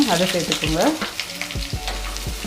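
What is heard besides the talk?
sliced onions frying in hot coconut oil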